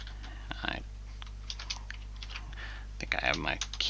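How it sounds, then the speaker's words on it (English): Quick bursts of computer keyboard typing during a Dynamics 365 Business Central coding session, clustered clacks near the microphone over a steady low hum, with pauses between the flurries. "I keep hitting brackets when I'm meaning to hit braces. Yep. Trying to go quick,"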